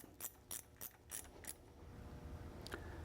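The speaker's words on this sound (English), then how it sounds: "take your 1/2 inch socket, tighten those 3 bolts up" Ratchet with a 1/2 inch socket tightening the mount bolts on an MGW MT-82 race-spec shifter, five quick clicking strokes followed by quieter mechanical ticks, close and without talk.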